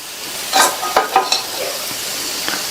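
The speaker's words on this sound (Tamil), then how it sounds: "பரட்டி போட்டுட்டு இந்த மாதிரி லைட்டாக ப்ரெஸ் பண்ணி விடுங்க." An onion roti lands on a hot pan and is pressed down lightly, giving a few soft, close scraping bursts over a low, steady sizzle, then the frying hiss carries on alone.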